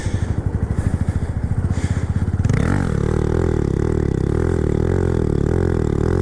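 A Honda Grom motorcycle engine chugs in a rapid low pulse, then revs up and holds a loud, steady drone while the rider rides a wheelie with the rear brake in use, close to the microphone.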